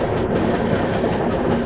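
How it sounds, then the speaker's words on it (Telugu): A passenger express, the Kacheguda–Madurai 22715, runs on rails through Rayalaseema near the Hundri river, heard from on board as a close, continuous rumble and clatter of wagons rolling over track. "ట్రైన్ అట్లా కరువు తీసుకుంటుంది."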